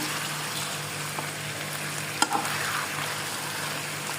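Meat and ginger fry in a pan as they are stirred, a soft continuous sizzle with one brief scrape of a utensil midway, quiet and without speech.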